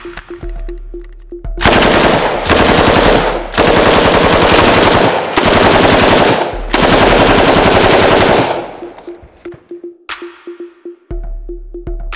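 A light machine gun fires on full automatic at a shooting range in four long, loud bursts separated by short pauses, each a dense, rapid hammering that cuts off sharply, with quiet gaps and faint background noise before and after.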